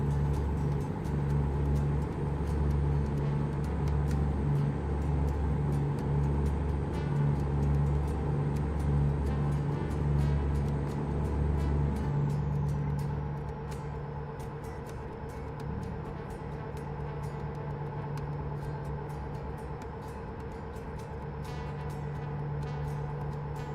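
Spaceship engine in Starfield droning steadily, a deep low hum with a rumbling layer, slightly quieter and smoother after the midpoint, with no voices over it.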